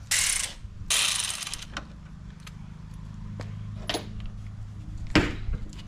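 A hand ratchet works on 10 mm bolts holding a Ford Bronco tail light, with quick bursts of clicking pawl strokes, scattered metallic clicks and taps, and pauses between, heard close and quiet with no talking.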